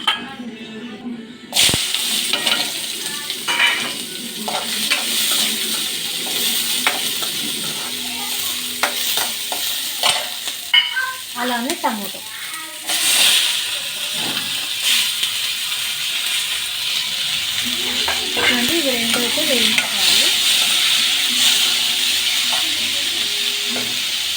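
Paneer sizzling and frying in oil in a pan until golden brown, a steady crackling hiss throughout with occasional stirring scrapes and clinks, close and moderately loud.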